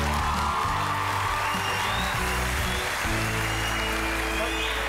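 Studio audience applause on the Turkish TV talent show O Ses Türkiye, a constant wash of clapping over low music tones running under it throughout.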